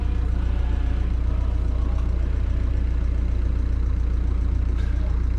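A car motor idles steadily after sitting unused for a month, a continuous low rumble that is loud and close, heard alone.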